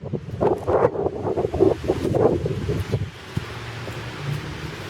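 Wind gusts buffet the microphone outdoors on a lawn during metal detecting, in low rumbling bursts, strong at first and then easing into a steadier, softer whoosh.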